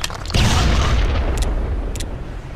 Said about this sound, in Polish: A rzućmy mu granat.